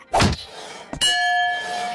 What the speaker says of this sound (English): You hit this button with this hammer. If the bell rings, you win a prize!